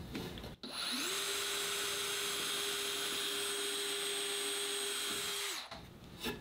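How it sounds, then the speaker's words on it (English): A cordless drill with a countersink bit spins up to a steady high whine, runs evenly for several seconds while boring a countersink hole, then winds down and stops. "I'll go ahead and take my Central Tech bit, place it in place, and then we'll go ahead and drill a hole."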